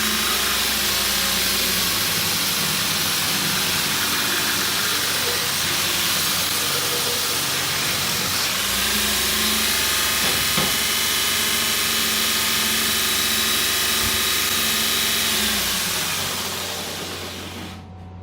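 A Grizzly 2x42 belt grinder driven by a 750 motor grinds a piece of metal with a steady, loud hissing whine and motor hum that continues throughout, then fades away at the very end.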